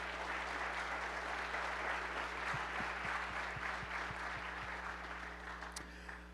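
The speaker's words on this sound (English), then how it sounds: "Let's give him a round of applause as well." A round of applause from the audience at an atheist-theist dialogue event, a steady dense patter of clapping over a low constant hum, with a series of soft knocks partway through and a gradual fade at the close.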